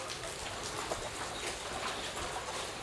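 Steady rain falling, a dense broadband hiss with scattered brighter drop patters, fairly quiet and continuous with no voices.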